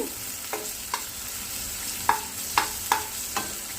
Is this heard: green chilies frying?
yes